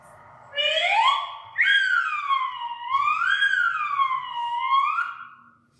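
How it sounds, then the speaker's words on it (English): A slide whistle glides up and down in long swooping tones, rising and falling several times, clear and close. "kids were trying slide whistles,"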